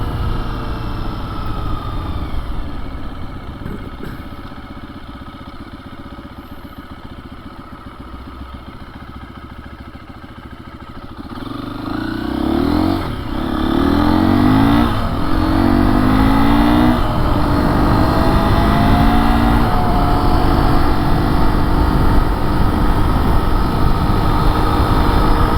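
A 2024 KTM 350 EXC-F dirt bike with a swapped sprocket idles steadily, then its engine revs up and climbs through repeated loud pulls, close and dominant, with no speech.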